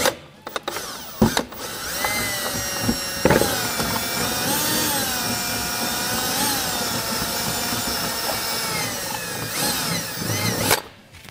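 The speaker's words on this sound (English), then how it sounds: "Then we'll go ahead and drill our hole." A power drill bores a hole while fitting a SuperATV winch bumper onto a Polaris Ranger XP 1000, a sustained whining tone that holds steady for several seconds between short starts and stops.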